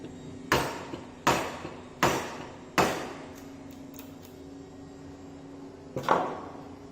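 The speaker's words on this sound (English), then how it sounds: "again with the help of chisel and mallet the operation is performed" A wooden-handled mallet drives a chisel into a wooden workpiece in a carpentry shop: four sharp knocks at an even pace, a pause, then one more, each close and clear with a short ringing tail.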